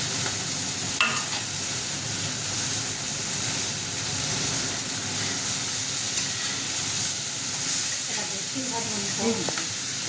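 Prawns frying in mustard oil in a pan for prawn malai curry: a loud, continuous sizzle and hiss with stirring scrapes, close and steady, and brief faint sounds near the end.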